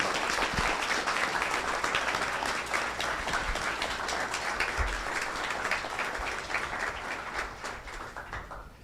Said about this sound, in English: Let's give another round of applause to Edwin.